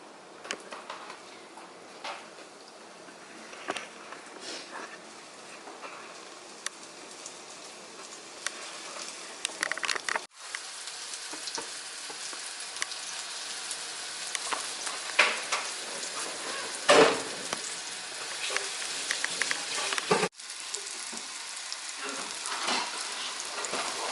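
Shrimp for shrimp and grits, shaken of excess coating, sizzle and fry in a pan over medium heat, a steady crackling hiss with brief pops and a few light clicks, close and continuous with no talking.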